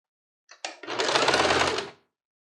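A sewing machine stitches bias binding onto a fabric stand-mixer cover, starting with a couple of short stuttering bursts and then running in one steady, close, whirring stretch of about a second and a half before stopping.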